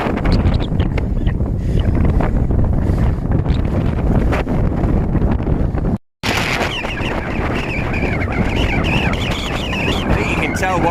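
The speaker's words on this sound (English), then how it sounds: "It's a little bit windy" Strong wind buffeting the microphone on a cycle tour along the west coast of Arran, loud and continuous roaring gusts with a brief dropout midway, a voice faintly under it.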